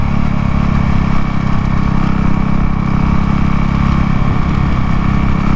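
Honda CRF450L supermoto motorcycle engine idling while warming up, a loud, steady, close single-cylinder thrum with no revving or talking.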